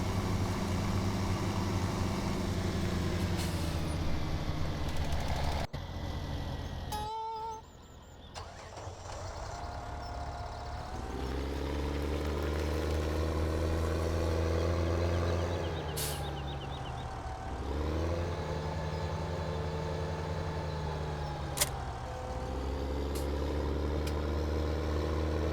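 A tractor engine in Farming Simulator 17 runs steadily at a loud, even idle, with a brief dip and a rev change partway through, plus occasional clicks.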